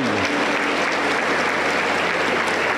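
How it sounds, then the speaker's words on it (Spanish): Congregation applauding in a Pentecostal church, La Cosecha in Junín, a dense, steady wash of many hands clapping close and loud throughout, with no speech over it. "aplauso para el Señor"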